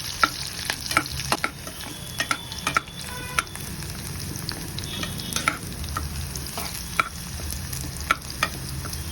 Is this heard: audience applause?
no